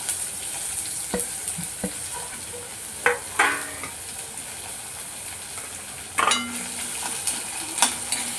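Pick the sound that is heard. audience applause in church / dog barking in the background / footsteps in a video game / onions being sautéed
onions being sautéed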